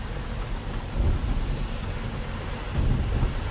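Rain falls steadily in Bangalore while low thunder rumbles swell twice, near the start and again toward the end, over a constant wash of rain and wind noise.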